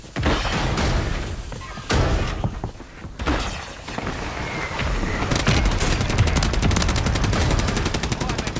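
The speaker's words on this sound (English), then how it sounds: "I called a mortar on us." Mortar strikes called in during an online shooter game land as a sustained barrage of loud gunfire-like blasts and booming impacts, dense and continuous with brief lulls, ending in rapid repeated bursts.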